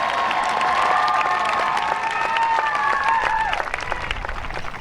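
A large crowd of high school graduates at a commencement ceremony applauds steadily, a dense wash of clapping with a faint cheer rising through it before the noise begins to thin near the end.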